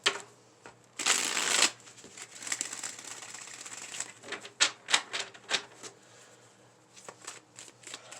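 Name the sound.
shuffling cards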